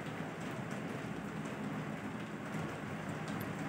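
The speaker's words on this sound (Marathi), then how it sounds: "बघा, प्रत्यक्षपणे पाऊस पण सुरू आहे. पावसाचं पाणी या पृथ्वी तलावर पडत आहे, या जमिनीवर पडत आहे." Rain falls steadily onto the ground outdoors as a soft, even hiss of drops that stays constant and fairly quiet throughout, with no voices.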